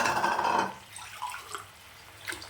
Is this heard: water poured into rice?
yes